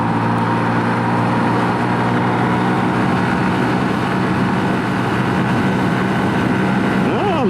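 A Honda Super Cub C125 motorcycle engine on a speed run, a steady loud drone with a rising whine near the end and wind rush throughout.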